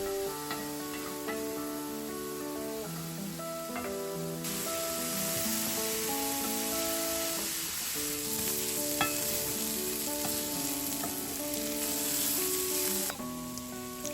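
Mushrooms and onions fry in a pan with a steady, close sizzle and crackle, an occasional stir scraping through as the hiss grows brighter midway, with no talking.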